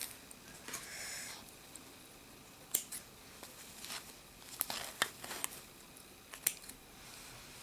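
Scissors cut thread during paper piecing, giving a few small sharp snips and clicks over a quiet hiss, spaced irregularly across the moment.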